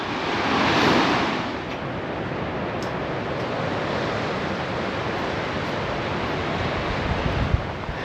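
Ocean waves wash onto a beach in Spain in winter, a broad steady roar of surf with wind buffeting the microphone, swelling briefly near the start.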